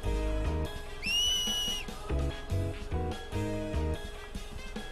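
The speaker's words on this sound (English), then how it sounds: "They don't have whistling in the future?" A finger whistle in the video game Final Fantasy X, one rising, sustained shrill whistle around the one-second mark that holds and then stops, heard over loud rhythmic game music with no talking.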